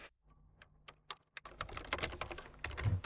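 Keys clatter on a computer keyboard at close range, starting with a few sparse taps and building into a quick, steady burst of typing, with no talking.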